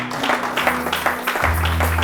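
A church congregation applauds steadily in a reverberant hall, a continuous wash of clapping with a low sustained organ or keyboard tone underneath.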